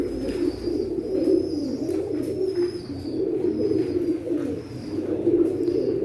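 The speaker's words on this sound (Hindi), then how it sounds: "ये बटेरा कबूतर है।" Steady low cooing from several pigeons, including Sialkoti pigeons, overlapping and continuous, close by, with faint chirps from other birds above.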